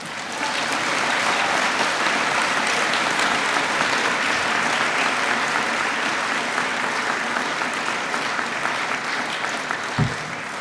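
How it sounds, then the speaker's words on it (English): Sustained applause from a large audience at a University of Leicester graduation ceremony for Media and Public Relations master's graduates in De Montfort Hall, dense and steady for about ten seconds without talk. "why don't we break this and give them a round of applause"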